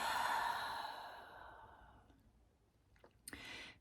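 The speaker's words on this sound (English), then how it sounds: "take a deep breath in through the nose" A deep breath drawn in through the nose during a guided meditation, a soft close airy inhale that fades over about two seconds, followed by quiet and a few faint clicks.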